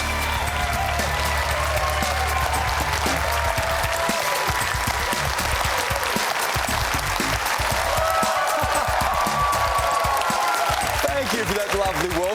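An enthusiastic live studio audience in Melbourne applauds loudly and steadily throughout, a dense continuous wash of clapping with scattered cheers, close and full.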